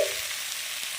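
Jackfruit and potato with spices fry in a pan in a steady, close sizzle that holds evenly for a moment with no voices.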